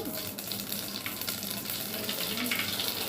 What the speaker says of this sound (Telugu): ఆయిల్ వేడైంది, ఆవాలు జీలకర్ర పచ్చిపట్టలాడిన తర్వాత